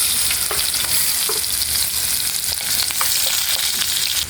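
Garlic and onion sautéing in a pan and being stirred, a loud continuous sizzle with frequent scraping strokes of the spoon; no talking.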